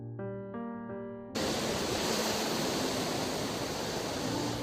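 Pacific Ocean waves at Coronado Beach, California, a loud, continuous wash of surf that bursts in suddenly after a few sustained musical tones and then holds steady.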